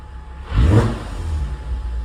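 VW R32 with a 3.2L V6 on throttle: a low idle rises into one sharp rev swell, then eases back to a steady, slightly raised rumble, with nobody speaking.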